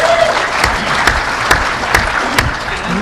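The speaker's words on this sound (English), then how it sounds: "They're clapping for you now" Loud, steady applause from a hacking conference audience fills the room, with a few sharper claps and faint voices mixed into the dense crowd noise.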